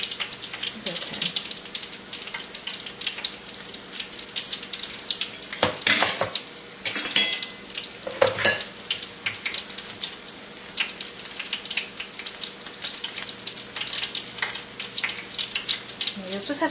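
Shrimp patties fry in a pan of oil with a steady, close sizzle throughout, broken by a few louder utensil scrapes and clinks around the middle.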